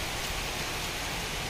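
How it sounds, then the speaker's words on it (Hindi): Sudden heavy rain during a storm, a dense, steady hiss of downpour that stays loud and even throughout, with no voices. "अचानक से इतनी तेज़ बारिश आ रही है"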